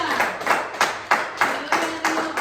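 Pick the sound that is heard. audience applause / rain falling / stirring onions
audience applause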